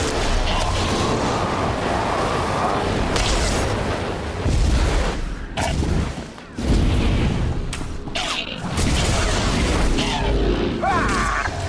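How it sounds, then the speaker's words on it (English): Loud booming explosions from the Star Wars: The Old Republic video game, several heavy blasts rolling over dense continuous battle noise, with brief drops between bursts. "Explosion."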